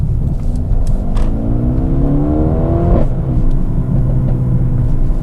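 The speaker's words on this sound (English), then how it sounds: "you get some blatting out of the exhaust pipes" A Mercedes-AMG A 35 in Sport Plus mode accelerating hard, its engine note climbing steadily through gears with a sharp shift and exhaust blats, loud and close throughout with no talk.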